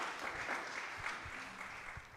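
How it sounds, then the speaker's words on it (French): An audience at a diocesan youth talent audition gives warm applause, a soft, distant wash of clapping that runs evenly through the brief moment with faint low thumps underneath. "On applaudit s'il vous plaît, on applaudit chaleureusement."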